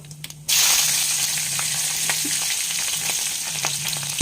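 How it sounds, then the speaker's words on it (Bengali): A sudden loud sizzle bursts in as nigella seeds and green chillies hit hot oil left from frying fish, then a steady dense crackle of frying continues close up. "এবার এই মাছ ভাজা তেলেই আমি কালো জিরে ফোড়ন দিয়ে দেব আর কাঁচা লঙ্কাটাও দিয়ে দেবো"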